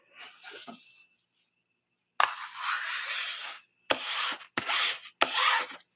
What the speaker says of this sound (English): I'm just going to fold it and use my bone folder